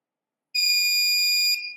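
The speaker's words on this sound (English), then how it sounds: "for 3 state buzzer is on, just like that" A buzzer driven by a Particle Photon through a PCA9536 digital I/O board switches on after a short silence and sounds a loud, steady high-pitched electronic tone for about a second before trailing off.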